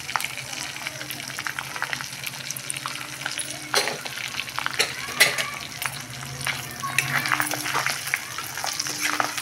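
Gongura leaves and dried fish fry in oil, giving a continuous crackling sizzle with intermittent stirring knocks, close and moderately loud.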